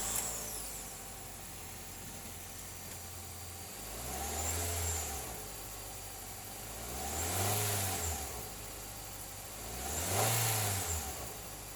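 A 2013 Nissan Altima engine with about 186,632 miles idles steadily, rising in three separate revs that swell and fade about three seconds apart, close and alone with no talking.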